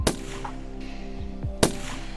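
Two sharp gunshots in a World War II film scene, one at the start and another near the end, cutting through a low rumbling background.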